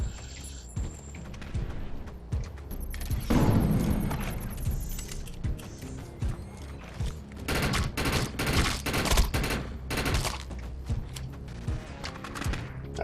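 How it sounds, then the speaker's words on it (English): Rockets and grenades going off in the shooter game Defiance, a dense crackle of distant gunfire and bursts that swells into loud, rapid detonations in the second half. "Looks like it's rockets and grenades."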